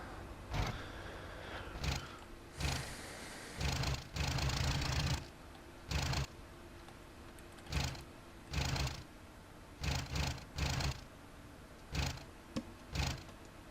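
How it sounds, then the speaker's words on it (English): A single piston aircraft engine in the IL-2 Battle of Stalingrad flight simulator misfires, sputtering in about a dozen irregular bursts separated by near silence, each cough short and fairly faint. "Engine misfires."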